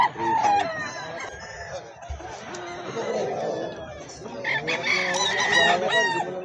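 A Sweater gamefowl rooster at a Bocaue pet market crows loudly and clucks, with people chattering nearby and the busy market in the background.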